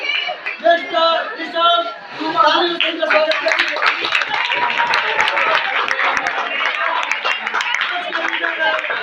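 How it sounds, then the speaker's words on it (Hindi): Quiz audience breaking into a round of applause, a dense, steady burst of clapping that follows brief talk, with crowd chatter and a chuckle mixed in, fairly close and loud. "जोरदार तालियों से स्वागत"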